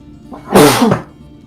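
A single sharp human sneeze close by, a short breathy burst that rises and cuts off within about half a second against a quiet background.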